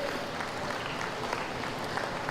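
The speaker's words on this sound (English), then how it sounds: "let's give these exhibitors a round of applause for a very exceptional set of weathers today" Audience applause for exhibitors at a goat show, a soft, steady patter of clapping from a modest crowd, somewhat distant and even throughout.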